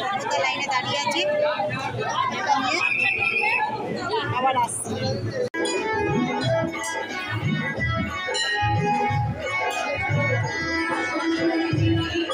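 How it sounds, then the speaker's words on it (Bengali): Dense crowd at the Bhootnath temple during puja, a steady hubbub of many overlapping voices and shuffling close around, with occasional brief bright clinks rising above the continuous babble. "পুজোর জায়গায় এরকম ভিড়"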